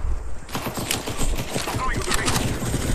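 Gunfire in a shooter video game, rapid bursts of shots over ongoing background noise, with a player talking across them.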